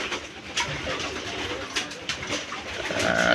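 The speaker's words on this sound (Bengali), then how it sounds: "কুপম্যানের একটা খুব ফেমাস একটা কবুতরের গ্র্যান্ড চাইল্ডও।" Racing pigeons coo and rustle inside a loft, with repeated soft, low cooing calls close by and a few wing flutters against a busy background.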